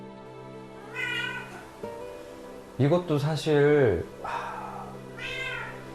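Cats in a multi-cat home meow in a drawn-out, rising and falling wail, loud and close, with a second shorter cry near the end, under and between a person talking.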